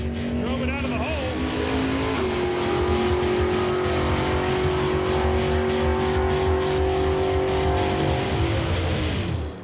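A 1967 Chevy Camaro roars down a drag strip at full throttle, a loud sustained engine note that climbs and shifts with a brief tire screech as it launches, with a commentator talking over it.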